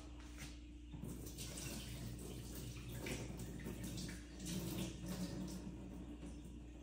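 Hot soaking water poured off softened paneer cubes in a kitchen, a soft continuous splash and trickle of water running out, faint and close, swelling slightly partway through.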